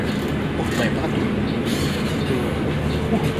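A train on the airport rail line at a station serving Soekarno-Hatta Airport, Jakarta, makes a loud, steady rumble and clatter of rail cars, with crowd voices mixed into the noise.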